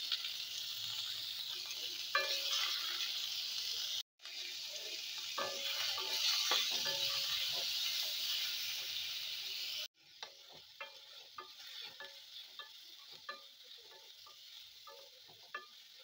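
Chopped onion, cumin seeds, grated ginger and green chili frying in oil, a continuous bright sizzle with soft stirring taps, briefly cut out twice, and the crackle thinning in the final stretch; no voices.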